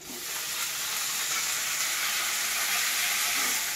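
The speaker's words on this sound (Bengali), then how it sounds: "এবার আমি শাকটা নিয়ে ভাজবো।" Susni saag greens fry in a hot kadai, giving a loud, close, continuous sizzling hiss that holds steady throughout, with no talking.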